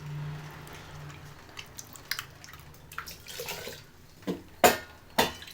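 Ground horse gram is poured into a pot that already holds water, giving wet splashes and drips with a few louder gushing pours near the end, close by and without talk.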